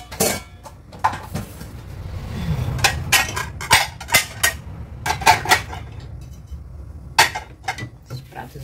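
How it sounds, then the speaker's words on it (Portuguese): Dishes and plates clatter and clink in a home kitchen as they are handled and stacked, with a string of sharp, irregular knocks and rattles close by. "Esses pratos aqui"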